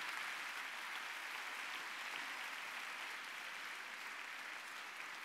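A large audience applauds at a formal courtroom-style opening ceremony of the bar, giving a dense, steady wash of clapping that holds evenly throughout at moderate distance with no speech over it.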